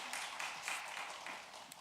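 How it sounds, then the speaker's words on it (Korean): A church congregation at a Wednesday service gives faint, steady applause that sounds distant and soft throughout the short stretch. "귀한 박수 부탁드리겠습니다"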